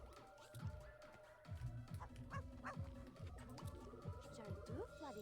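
A dog in the video game MySims gives a steady run of short, rhythmic barks and yips over a soft game music backdrop, repeating evenly for several seconds.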